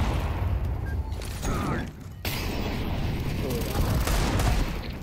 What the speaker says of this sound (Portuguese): Eu só atirei.